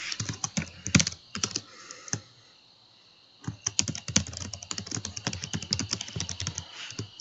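Computer keyboard keys tapped out in quick bursts while naming a folder, close and crisp clicks in uneven runs with a brief pause in the middle, no voices.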